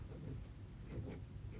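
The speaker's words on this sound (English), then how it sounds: "And then I'm just going to test it out on a piece of paper." A black glitter pen writes on a sheet of paper, giving a faint, steady scratching that runs unbroken for under two seconds, quiet and close, with no talking.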